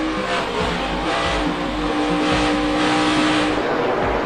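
NASCAR stock cars roar around the track on a final lap, a loud, continuous wall of engine drone with shifting pitch as cars pass close by, plus a brief tire squeal.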